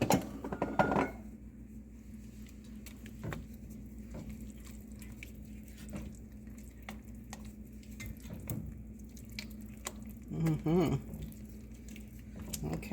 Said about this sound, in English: take 1 cup of grated Parmesan cheese, and stir that in until it's melted good.